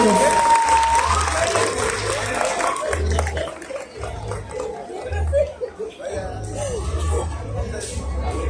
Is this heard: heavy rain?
no